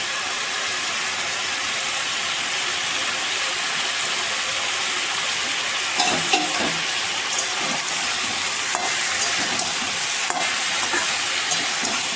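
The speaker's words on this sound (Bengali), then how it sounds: "সবজিটাকে ভালো করে ভাজা ভাজা করে নিয়েছি" Mixed vegetables fry in a pan with turmeric powder for a vegetarian Malabar spinach curry, a continuous close sizzle with scraping stirs and clinks from about the midpoint onward.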